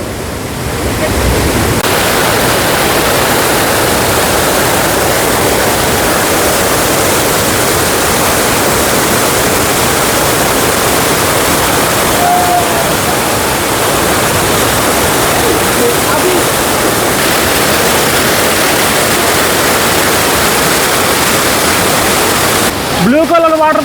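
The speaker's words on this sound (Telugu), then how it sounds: "ఫాల్స్ పక్కనే ఇలా వాటర్ ఫాల్స్ చూశారు కదా ఎట్లున్నాయి పైనుంచి అక్కడ నుంచి స్టెప్పులు స్టెప్పులుగా పడుతున్నాయి" A waterfall dropping in steps gives a steady, roaring rush of falling water that fills the whole stretch, loud and close, with no pauses.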